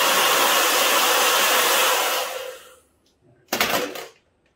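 A heat gun blows a steady, loud, close rushing hiss as it warms a vinyl wrap on an e-scooter, then cuts off, followed by a short handling clatter.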